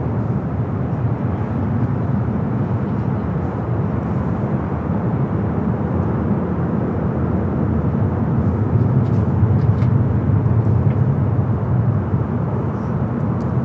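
A jet airliner taxis at Los Angeles airport toward Terminal 7, a steady distant engine whine and rumble that holds constant and swells slightly near the end.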